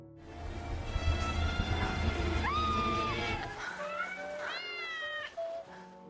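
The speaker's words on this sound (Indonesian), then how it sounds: "siluet itu adalah 3 kucing yang gemoy." Several cats meow in overlapping, rising and falling cries, close and fairly loud, with a few calls in quick succession and a low rumbling background underneath.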